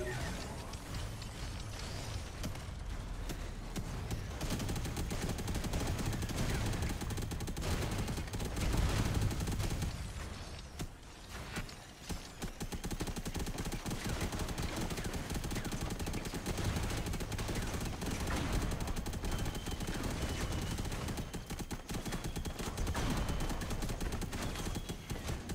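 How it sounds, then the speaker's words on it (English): Cannons fire repeatedly during Robocraft gameplay, a dense barrage of booming, crackling shots and explosions layered over continuous game noise, loud and near, with a brief lull partway through before the volleys resume. "Come on, cannons."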